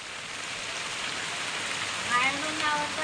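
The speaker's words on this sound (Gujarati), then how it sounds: "વરસાદ તો જબરજસ્ત પડી રહ્યો છે બહાર તો." Heavy rain pours outside during the monsoon, a dense steady hiss of drops on surfaces that swells slightly toward the end, with faint voices in the background.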